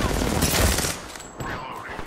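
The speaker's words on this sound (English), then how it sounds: "They're shooting at me!" Rapid gunfire in the shooter game Apex Legends, dense overlapping bursts loud at first and then thinning out over about two seconds.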